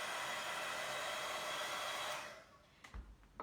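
A hair dryer blows steadily and loudly on a freshly painted lid of a sweets container, a dense close-up roar that cuts off after about two seconds, leaving soft handling bumps.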